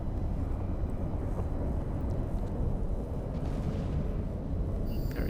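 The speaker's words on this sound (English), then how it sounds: "Now, stay there for a little bit while we watch the explosion." A ship explodes after missile hits in the video game EVE Online, heard as a continuous deep, heavy rumbling roar that holds steady at moderate loudness.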